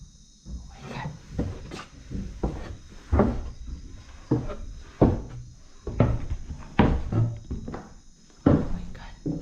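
A chair is dragged and bumped across the floor in a string of irregular knocks and scrapes, some of them sharp thuds, heard close by with brief vocal sounds in between.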